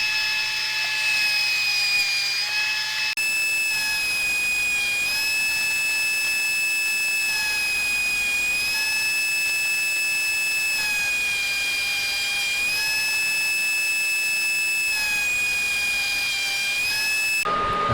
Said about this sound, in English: now I'm going through and cutting everything to the correct length on the table saw.